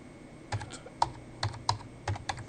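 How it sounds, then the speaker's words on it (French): Several quiet, separate keystrokes tapped on a computer keyboard while a password is entered at a Linux partition tool, irregular and close, with no talking. "Maintenant je tape ici le mot de passe."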